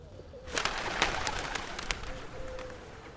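Pigeons coo and flutter in a main city square in Barcelona, Spain, a faint, busy scatter of soft calls and wing taps over steady outdoor background noise.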